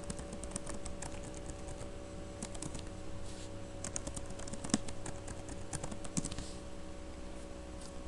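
Someone types a Unix password on a computer keyboard, giving a steady run of soft, close key clicks with a few sharper taps against a faint background hum.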